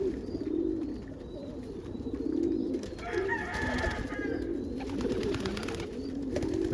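Pigeons cooing softly in the morning while being fed corn, low repeated coos from several birds, fairly faint, with no talking.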